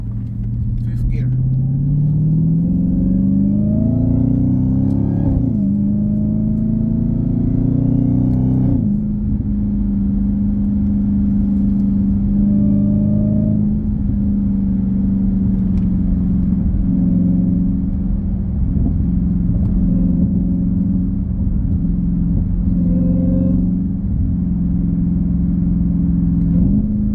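Dodge Challenger Hellcat Widebody supercharged V8 accelerating hard, revs climbing in repeated sweeps with abrupt drops at each paddle shift up to fifth gear, then settling into a loud steady cruise drone heard from the cabin.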